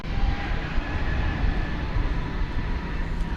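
An American airliner on runway 18 left at Dallas Fort Worth airport gives a steady, broad jet engine roar, moderately loud and unbroken throughout, with no talking.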